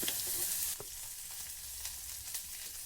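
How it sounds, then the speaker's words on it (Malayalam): Chopped onions with salt sautéing in a hot clay pot, a steady close sizzle with light stirring scrapes, louder at the start then settling into an even fry. "സവാളയുടെ കളറ് ചെറുതായിട്ടൊന്ന് മാറി വരുന്നത് വരെ വഴറ്റി കൊടുക്കാം."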